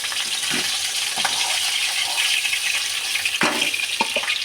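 Hilsa fish pieces frying in oil, a steady close sizzle with a few clattering knocks and scrapes.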